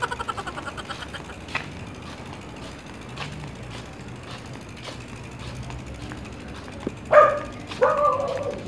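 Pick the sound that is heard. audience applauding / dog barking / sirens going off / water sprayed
dog barking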